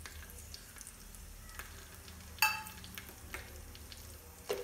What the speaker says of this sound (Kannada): ಇದು ಎಣ್ಣೆಯಲ್ಲಿ ಒಂಚೂರೇ ಚೂರು ಹುರ್ಕೊಳ್ಳೋಣ